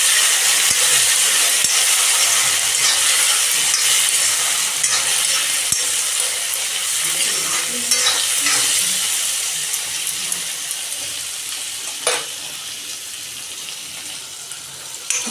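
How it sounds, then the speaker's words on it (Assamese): Boiled chickpeas fry in a pan, a loud, continuous hiss and crackle with occasional scraping and clinks as they are stirred, gradually easing slightly in volume. "বুটটো আপোনাৰ 5 মিনিটমান মই ভাজিম।"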